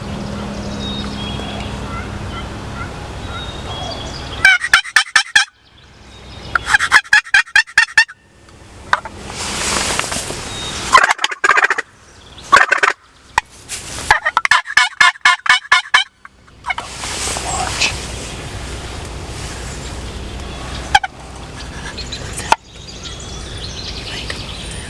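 Wild turkey toms gobble repeatedly during a spring hunt in central Minnesota, in loud rattling bursts that seem to come from two birds, mixed with softer calling and outdoor background noise and some quiet talk.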